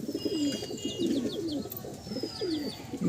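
A flock of Madrasi flying pigeons coo up close with repeated deep, wavering calls, layered over thin high chirps and a steady background.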